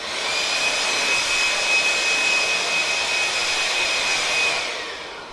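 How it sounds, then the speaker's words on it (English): A Ryobi portable wet/dry vacuum runs with a steady loud whine and airy rush, holding constant for about five seconds before winding down at the end. "We have a nice little wet dry vac also."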